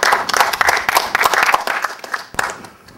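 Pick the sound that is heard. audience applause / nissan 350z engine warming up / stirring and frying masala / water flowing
audience applause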